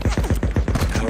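Rapid burst of gunfire in Days Gone, roughly ten sharp shots in quick, evenly spaced succession, loud and close with no talk over them.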